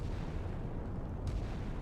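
Enemy warship guns fire during a naval battle in Sea Power, a dense, continuous low rumble of distant gunfire with a sharper crack near the end, no voices.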